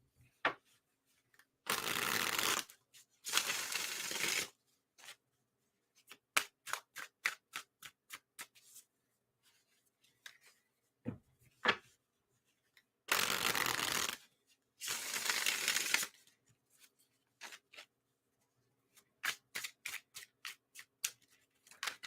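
Tarot cards shuffled in several bursts of riffling, each a second or two long, with quieter taps and card handling between them, up close with no talking.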